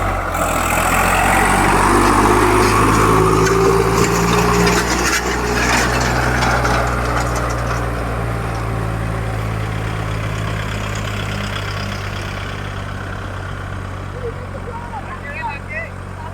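Swaraj 855 tractor engine running steadily in four-wheel drive, a loud continuous low diesel rumble that slowly fades slightly over time, with people talking over it.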